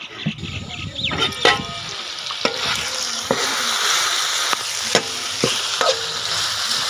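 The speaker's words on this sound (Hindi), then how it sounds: "ये टमाटर में भुन चुका है" Beef achar gosht frying with tomatoes in a pot outdoors near a fort, with a steady sizzle, repeated stirring scrapes and clinks close by, and no talk.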